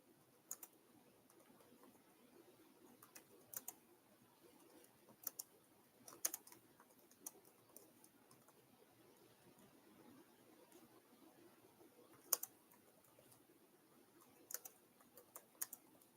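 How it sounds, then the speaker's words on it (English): Typing on a computer keyboard in a quiet room, with scattered soft key clicks and a few sharper taps spread unevenly throughout, faint against a low background hiss. "All right, so I was typing in the chat."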